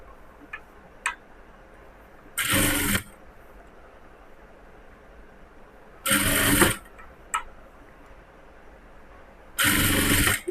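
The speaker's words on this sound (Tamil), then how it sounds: "இந்த மாதிரி தைக்கணும். பொறுமையாக தைங்க." A sewing machine stitches a folded blouse hem in three short, even bursts separated by quiet pauses, close and clear, with faint clicks between runs.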